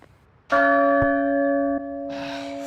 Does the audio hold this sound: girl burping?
no